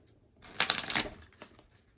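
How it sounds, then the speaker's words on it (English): A deck of tarot cards is riffle shuffled once up close, a brief fluttering burst of cards followed by a softer tap as they settle. "I riffle shuffle when I can"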